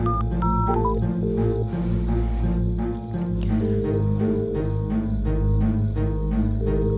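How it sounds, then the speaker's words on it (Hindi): Electronic telephone tones sound as a number is dialed and the call rings out: a run of steady beeps and repeating pitched tones, loud and clear, with no voices. "घंटी बज रहा है पर"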